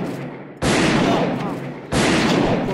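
Two loud, sharp gunshot bursts in a first-person shooter video game, each a sudden broadband blast that lingers and decays, the first at about half a second and the second near two seconds.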